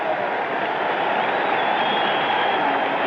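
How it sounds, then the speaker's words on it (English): A stadium crowd at the Houston Astrodome during the 1968 night All-Star baseball game applauds Mantle, a loud, sustained roar of clapping and cheering over a thin, band-limited broadcast sound. "Listen to the applause."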